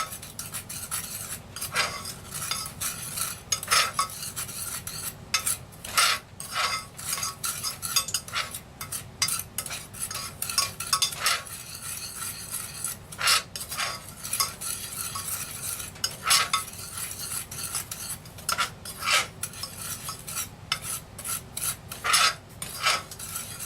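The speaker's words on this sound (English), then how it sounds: "I'm just going to start stirring it as the pan heats up." Sugar is stirred in a heavy pan over medium-low heat as it starts to melt. A spoon scrapes and rasps against the metal in quick, irregular strokes, close and clear, with no voices.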